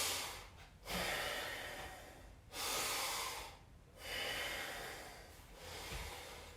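People recovering after a primal workout class breathe heavily, with four long loud exhalations and sighs spaced a second or two apart, close and without talk.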